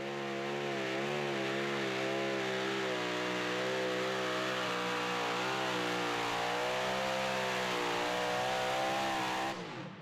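The Taz Toy, a super modified two-wheel-drive pulling truck, roars under full load in a sustained, loud high-revving howl whose pitch wavers and climbs through the pull before cutting off abruptly near the end.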